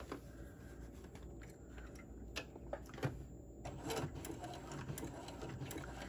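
A sewing machine stitches a fabric lanyard with a steady mechanical whir, broken by a few sharper ticks and clicks as the fabric is handled, fairly close and quiet with no talking.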